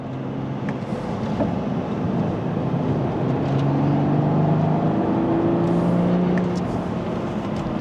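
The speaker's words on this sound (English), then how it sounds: "Dropping it into third gear as I start to become more comfortable with the vehicle." Engine of a 2025 Toyota GR Supra on a racetrack, a steady loud drone with rising and falling tones as it downshifts and revs, heard from inside the cabin with road and wind noise.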